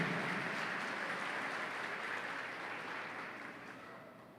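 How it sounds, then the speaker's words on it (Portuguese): A church congregation applauds during a worship celebration, a dense steady wash of clapping that slowly tapers off, with no voices over it. "Aplauda o nome do Senhor pela vida da Luciana."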